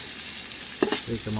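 Suya beef pieces sizzle in a pan during cooking, a brief close crackle and hiss heard beneath a short spoken phrase.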